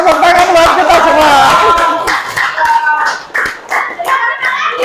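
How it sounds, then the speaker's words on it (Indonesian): A class of children claps in a burst of applause mixed with loud chatter and shouting voices, then fades into scattered claps and talk. "tepuk tangan buat kita semua"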